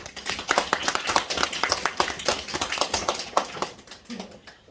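A hall audience at a hair-styling education seminar claps for an introduced guest speaker, a co-CEO, with dense, steady clapping that thins out toward the end.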